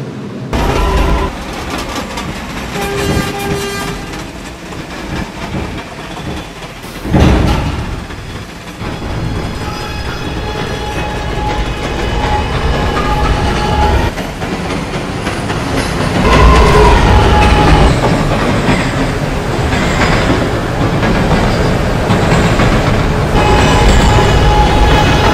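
An R211A subway train on an A express service in the video game Transit City 3, running with continuous rumble and clickety-clack, a brief thump early on and the roar building louder toward the end.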